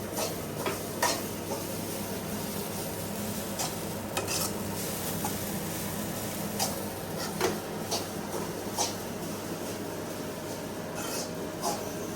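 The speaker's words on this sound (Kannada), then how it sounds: "ಕಾಯಿ ತುರಿನ ಸ್ವಲ್ಪ ಫ್ರೈ ಮಾಡು." Grated coconut fries in a pan for a Kundapura-style fish curry, giving a steady soft sizzle with occasional light scraping and stirring clicks throughout, fairly quiet and with no talk.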